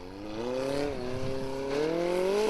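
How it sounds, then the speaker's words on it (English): A Formula Offroad racing car engine drones at high revs at Stapafell, Iceland, its pitch dipping and then climbing steadily as the throttle opens, loud and continuous. "This car sounds completely different to all the other ones."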